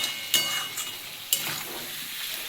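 Prawns fry in a pan for a flat bean and potato curry, a steady close sizzle with a few sharp scrapes and clinks from a spatula stirring, no voices.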